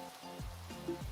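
Steady, soft rain falling in the video game Minecraft, a continuous faint hiss with a few muffled low tones and brief background sounds over it.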